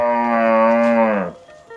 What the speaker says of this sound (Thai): มาดูวัวน้อยครับผม